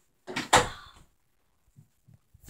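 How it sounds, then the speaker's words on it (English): A door swings shut with one sharp, close thump and a short rattle, followed by quiet and a few faint soft knocks. "Just shut your door."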